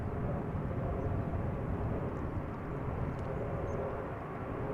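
A fixed-wing airliner on approach in gusty crosswind at Amsterdam Schiphol Airport, a steady broad engine roar that holds evenly throughout at moderate distance with no talk.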